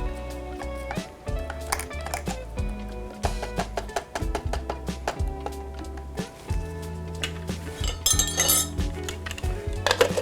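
Utensil scraping inside a food processor bowl while making chicken shawarma paste, heard as repeated close clinks and knocks against the bowl in an uneven rhythm with short scraping strokes between them.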